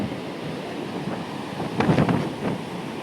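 Surf pounds a beach during Hurricane Debby while strong gusts buffet the microphone, a loud steady roar of waves and wind with a few heavier rumbling bursts near the end.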